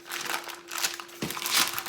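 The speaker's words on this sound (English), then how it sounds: "Now, I'm just going to take my parchment paper" Parchment paper crinkles and rustles softly and continuously while oatmeal cookie dough is shaped for the freezer, with faint crackly bursts throughout.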